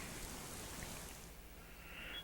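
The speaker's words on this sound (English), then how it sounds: "Ooh, we got some rain." Rain in Farming Simulator 25, a faint, even hiss of falling drops in a steady wash with no talking.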